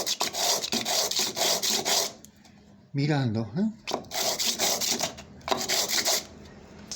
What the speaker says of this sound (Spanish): apoyo una lija arriba y comienzo a rectificar